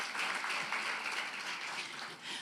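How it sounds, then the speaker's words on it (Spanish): Applause from a church congregation during a sermon, a soft, steady patter of many hands clapping heard at some distance, without talk. "Denle un aplauso al Señor."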